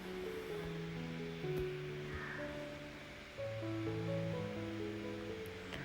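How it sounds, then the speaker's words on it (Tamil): Two tablespoons of coriander seeds roast in hot oil for a Chettinad country chicken gravy, giving a steady, even sizzle with soft musical tones underneath. "அதையும் நம்ம அந்த எண்ணெயிலே போட்டு வறுக்க போகிறோம்"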